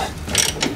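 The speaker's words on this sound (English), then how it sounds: "You can just use your big meaty ratchet here." Ratchet wrench clicking while turning a fastener at a car's wheel hub, a short burst of bright mechanical ticks, close and moderately loud.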